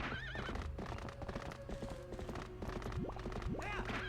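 A horse in The Legend of Zelda: Twilight Princess on GameCube gallops with rapid rhythmic hoofbeats and lets out high whinnying neighs, loud and close, with faint background voices.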